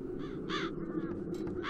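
Crows caw in the video game Satinavs Ketten, several harsh calls spaced across the moment over a steady low ambient hum, with no talking.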